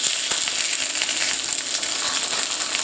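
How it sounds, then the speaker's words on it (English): A steak sears in a very hot pan, giving a loud, steady, dense sizzle and crackle that runs without a break and stays close throughout. "You want the pan very hot, so you're creating that sear right away."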